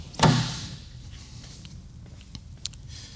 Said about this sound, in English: Put the hood back in place.